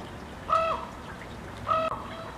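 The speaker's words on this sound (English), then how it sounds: "That's a very mean baby eagle." A baby eagle gives two sharp, harmonic calls about a second apart, each short and fairly loud, standing out against a faint, steady background hiss.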